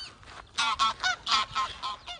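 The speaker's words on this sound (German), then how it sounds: "Ja, die Gänse fliegen weg." Wild geese honk in a quick series of about eight calls as they fly away, clear and fairly close, with faint wind noise between them.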